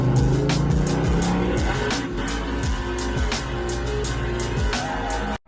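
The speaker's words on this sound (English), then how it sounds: "Who peeled out my driveway?" Car peeling out of a driveway with revving engine and squealing tires, a loud, continuous run of screeching and gear-change pulses that cuts off abruptly at the end.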